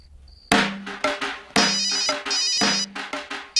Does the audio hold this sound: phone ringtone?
yes